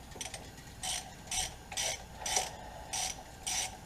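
Ratchet wrench loosening clutch bolts on a Paystar truck, six evenly spaced bursts of rapid metallic clicking, close and clear with no talking.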